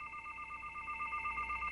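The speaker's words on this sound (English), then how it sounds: "the monitoring service should be calling us" A telephone sounds as the home alarm monitoring service calls, giving a steady electronic dual tone that holds evenly throughout, faint and with no one talking.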